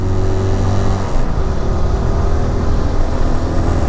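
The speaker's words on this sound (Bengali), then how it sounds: "আমি জানি না টিভিএসের বাইকের কি সাউন্ডই এরকম সুন্দর নাকি এই বাইকটার সাউন্ড সুন্দর বুঝতেছি না।" A TVS Apache RTR 2V motorcycle engine pulls hard and revs steadily while being ridden on an open road, a loud, continuous near drone with wind rush and no talking.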